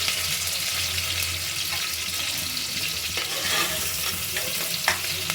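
Onions and masala sizzle steadily in hot oil for chicken pulao while being stirred, a continuous close frying hiss with occasional scrape and clatter of the spoon, no voices.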